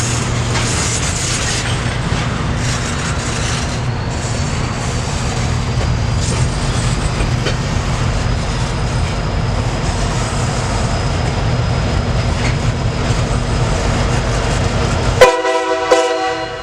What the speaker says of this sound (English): The loco was being shoved and pulled by a SP-60E, a locomotive I don't get to see very often.